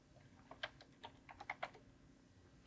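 Keys tapped on a computer keyboard while entering a marker name in music software: a short, quiet run of about a dozen light clicks in an uneven rhythm, close by and alone.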